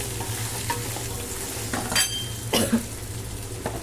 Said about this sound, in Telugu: ఇలా వేసుకొని ఒక 1 minute ఫ్రై చేసుకోవాలి.